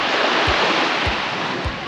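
Steady roar of surf at a calm seaside swimming spot on a sunny morning, broad wash of breaking water filling the air with a few low thumps of waves, no voices.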